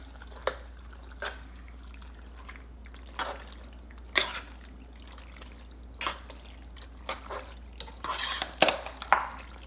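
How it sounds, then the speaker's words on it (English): Spaghetti sauce stirred into a pot for cheesy goulash produces soft, wet, squelching stirs and occasional utensil taps on the pot, in scattered bursts over a low steady hum. "So I stir in my spaghetti sauce."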